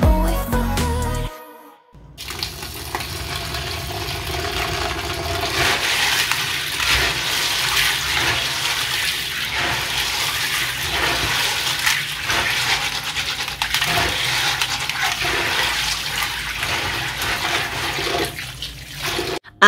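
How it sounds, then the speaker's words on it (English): Tap water runs steadily over beans and vegetables being washed in a kitchen sink, a loud continuous splashing gush after a brief quiet start, with slight surges as the produce is moved under the stream. "Now I'm going to be washing them under running water."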